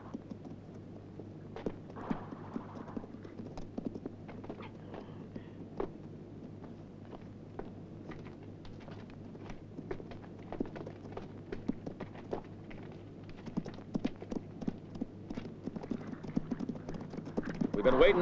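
Horses' hooves clip-clop in a steady, uneven patter at close range through a Western standoff scene, with a low hum underneath and sharper knocks building toward the end.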